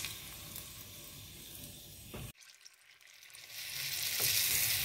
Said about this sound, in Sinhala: තෙල් එකට දාලා මෙන්න මේ විදිහට බැද ගන්න